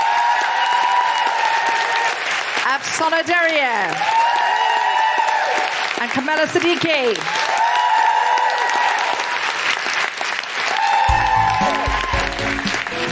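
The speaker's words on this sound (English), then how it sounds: "please give a big round of applause for Dina Mousawi" Audience applause for the guests at a live recording of a feminist comedy podcast episode about Afghanistan. Steady, loud clapping runs through the whole stretch while a voice speaks over it, with some tonal sound underneath.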